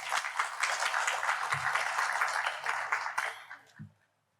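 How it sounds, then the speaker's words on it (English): An audience at a regional fire station grand opening ceremony claps in remembrance of a contributor, a steady round of applause that tapers off and stops near the end. "we just give him a round of applause"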